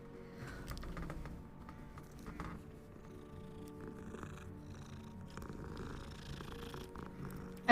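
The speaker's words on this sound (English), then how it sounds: "I like that you can pet all the cats you find." A cat purrs steadily and close while being petted in a video game, a soft continuous rumble running under faint game background sounds.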